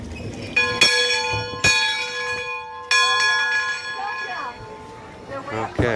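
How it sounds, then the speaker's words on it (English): An old bell at a historic wooden schoolhouse in St. Augustine rings out in three loud, ringing strikes, each tone hanging and slowly decaying, with people talking faintly underneath. "Help ring the bell, help call the students to class."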